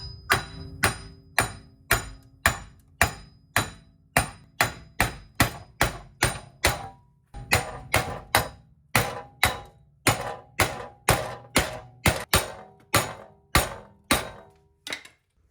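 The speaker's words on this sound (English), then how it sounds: "So we're gonna do the old-fashioned way with a mini sledgehammer." A mini sledgehammer pounds a worn wheel bearing out of a 2009-2012 Nissan Altima 2.5, dozens of sharp metallic blows in a steady, fast rhythm with brief pauses, loud and close, with no voices.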